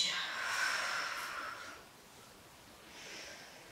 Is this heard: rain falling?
no